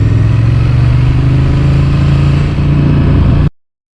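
A Honda Transalp motorcycle rides along in first gear, its engine droning loud and steady up close with heavy low rumble and wind, then cutting off abruptly.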